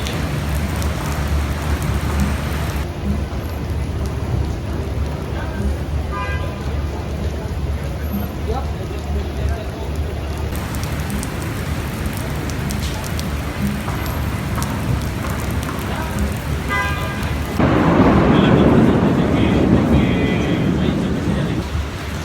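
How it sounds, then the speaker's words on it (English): Torrential rain pours down in a New York thunderstorm as a dense, loud, constant hiss and roar, with voices talking over it and the downpour swelling heavier near the end. "This sounds like torrential rain."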